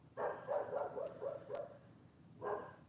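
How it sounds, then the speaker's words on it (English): A dog barks in a quick series of short, muffled yaps, then pauses before one more bark, heard faintly from another room. "I don't know if you guys can hear my dog barking."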